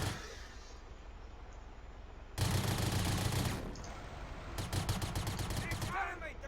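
Bursts of commando gunfire in a Rise of the Reds real-time strategy battle as the squad assaults a missile silo, loud rapid volleys in two clusters over a busy background of game noise.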